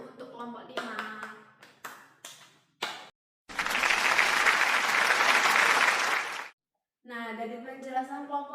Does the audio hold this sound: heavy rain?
no